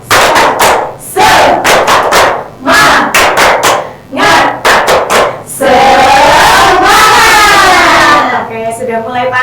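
Indonesian schoolchildren in a classroom performing the tepuk semangat clapping chant, loud rhythmic bursts of claps interleaved with group shouting, ending in a sustained collective cheer, very close and energetic.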